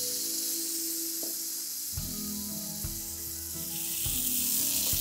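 Masoor dal tempering sizzling hard in a pan over high flame while being tossed, a continuous bright hiss with low thumps of the pan being moved, close and steady throughout.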